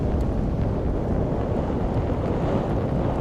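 Delta IV rocket with solid rocket motors roaring during an NROL-45 launch, a steady, dense low rumble with wind-like buffeting that holds constant and loud throughout, with no talk.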